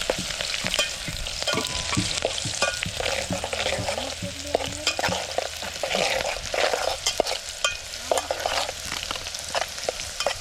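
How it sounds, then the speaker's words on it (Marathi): Onion, green chillies and garlic fry in hot oil for a riverside fish curry, cooked outdoors. Close, busy sizzling runs throughout, broken by frequent sharp scrapes and taps of a spoon stirring the pan, with no voices. "तर आता तेल तापलं आता कांदा टाकतो म्हटलं कांदा मिरच्या आणि लसूण"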